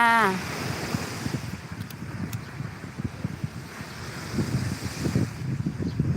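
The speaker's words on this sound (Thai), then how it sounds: "อยู่หาดแสงจันทร์อยู่ทะเล" Sea waves and steady wind at Saeng Chan beach, a rolling surf wash under constant gusty wind rumble, with a brief sound at the start and faint voices at a distance.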